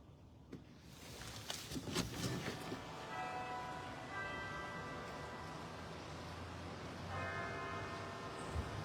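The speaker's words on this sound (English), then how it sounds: "It's 10 o'clock and I can hear the bells ringing from here" Distant church bell tolls ring out through a noisy outdoor background, their tones swelling and fading faintly with a low steady rumble beneath.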